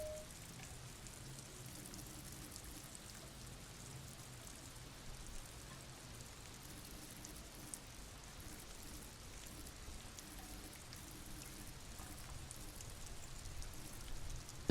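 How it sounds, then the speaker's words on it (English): Steady rain falling on a great city in the video game Disco Elysium, a soft continuous patter with gentle drips, quiet and unbroken throughout, no voices. "Rain drips from the eaves and floods the gutters."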